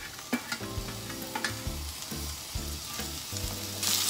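Thin-sliced onion sautés in melted butter in a pan, a soft sizzle under a series of clinking spatula taps and scrapes against the pan, with a hum running beneath.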